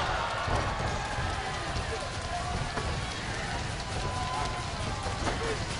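Wrestling arena crowd roaring at a big-match moment in the Burns Arena, a dense, continuous wall of cheering and noise that holds steady at full level throughout.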